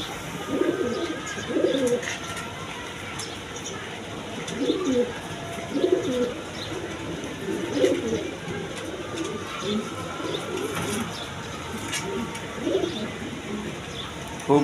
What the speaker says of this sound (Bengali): কবুতরটা আমি একটু দেখা দিতেছি ভালো করে, একদম কোয়ালিটি সম্পন্ন কবুতর